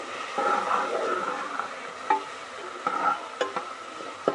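Chopped garlic and ginger fry in hot oil with a steady sizzle while a spoon stirs them, scraping and tapping the pan several times, close and alone.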